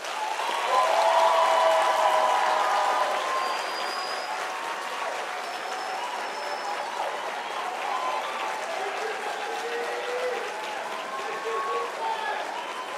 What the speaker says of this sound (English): Can we please give them a thunderous round of applause?